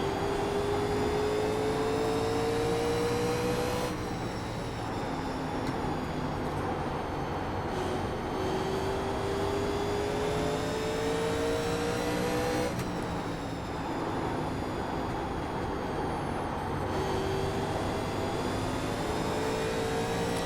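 1987 stock race cars lapping Bristol in the iRacing sim, several engines droning loudly at high revs, with pitch rising and dropping as the cars pass through the corners, a continuous pack roar with no talk.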